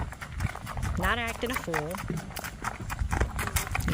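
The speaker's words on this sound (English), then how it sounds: "Here's Dante out by the barn, gaiting away, not throwing a fit to go in" Hooves of Dante, a gaited Walkaloosa gelding, beat in a quick steady rhythm as he gaits by the barn in Kentucky, close and continuous under someone talking over them.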